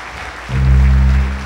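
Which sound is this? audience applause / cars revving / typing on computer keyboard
audience applause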